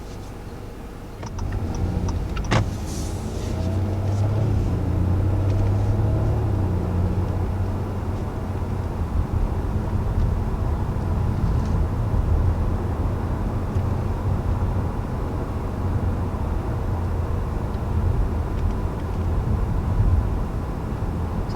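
A 2020 Acura TLX driving in sport mode, a steady low engine and road rumble with a brief ticking at the start, heard from inside the cabin at a constant level with no talking.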